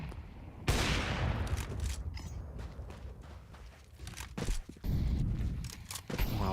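AWP sniper rifle fire in a Counter-Strike match, several sharp heavy shots with short gaps between them, mixed with footsteps and other game noise at moderate loudness.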